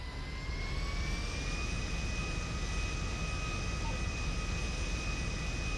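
Steady jet aircraft engine drone in GTA Online, a continuous loud roar with a sustained whine, holding level throughout with no talk.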